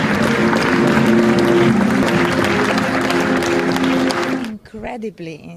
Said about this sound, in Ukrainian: Коли на екрані з'являються титри, зала довго аплодує стоячи